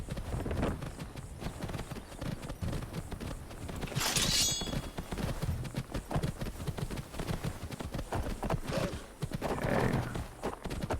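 In the Skyrim video game, a horse's hooves clip-clop steadily at a walk, and a clear whinny breaks in partway through over light wind.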